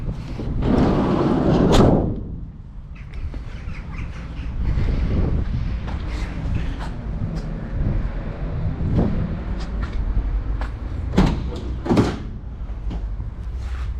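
Doors on an Iveco Daily 2.8 diesel panel van are opened, with sharp latch clunks and bangs at intervals against outdoor wind noise and faint background rumble.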